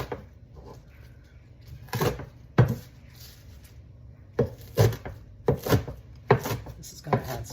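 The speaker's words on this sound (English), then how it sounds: "We're going to start with a rough chop, and then when it gets more chopped up, we will go a little finer." Spinach chopped with a knife on a cutting board, a series of sharp woody thuds in irregular pairs and bursts, close and fairly loud over a quiet background.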